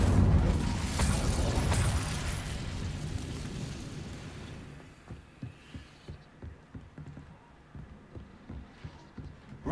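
Incendio fire spell cast in Hogwarts Legacy bursts with a loud fiery whoosh and boom, then fades into sharp crackling and popping flames that keep snapping in an uneven rhythm.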